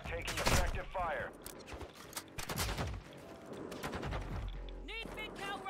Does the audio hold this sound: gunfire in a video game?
yes